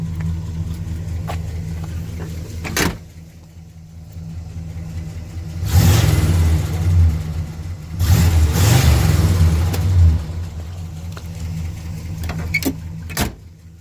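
A 1974 Pontiac Grand Am's 400 V8 engine idles with a low rumble, then revs hard twice, loud throaty bursts of exhaust roar, before settling back to idle.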